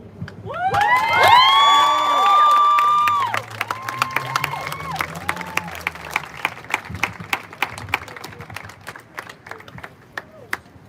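Pro-Armenian demonstrators at Los Angeles City Hall cheer loudly and shout at first, then keep clapping in sharp, uneven claps that trail off, with a few voices calling out.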